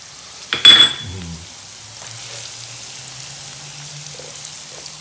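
Onions dropped into hot oil for a potato omelette give a brief loud sizzling burst, then settle into a faint, quiet frying hiss in a home kitchen.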